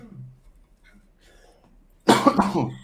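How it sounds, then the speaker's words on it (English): After a quiet stretch, a loud burst of coughing from someone with the flu erupts close to the microphone, a few rough hacks in quick succession. "I'm getting a bad cough now."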